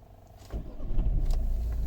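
Ignition switching on in a 2012 Volvo V50 1.6 D2 diesel brings a soft electric whir and hum from the car's systems, rising in level after a brief quiet start.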